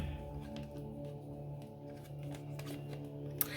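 Soft, continuous riffling and shuffling of tarot cards, a steady papery rustle with a sharper snap near the end, over a low background hum.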